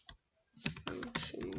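Computer keyboard typing a code comment: a short tap, a pause, then a quick irregular run of close, crisp keystrokes with no voice.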